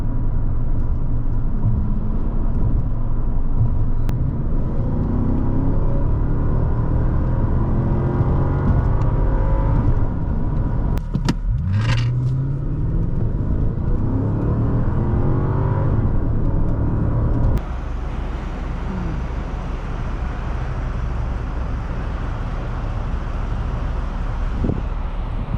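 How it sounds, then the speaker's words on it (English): A 2003 Mercedes-Benz CL500 heard from inside while driving and accelerating: a loud, continuous engine drone with rising and falling revs and constant road and wind rumble, shifting to a steadier cruise tone partway through. "Today we are driving a 2003 Mercedes CL500 on our channel."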